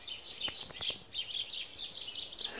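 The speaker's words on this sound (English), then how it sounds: "Birds are going crazy." Birds chirp outdoors in a busy, overlapping chorus of quick high tweets, fairly faint and distant, with no talking.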